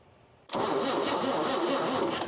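An old Pontiac engine cranks over slowly after a half-second of quiet, a close, loud, steady churning starter drone that continues to the end without catching.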